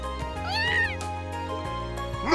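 A cat meows in the video game Trails of Cold Steel, a loud, drawn-out rising and falling cry heard alone over game background music, with a shorter mew at the end.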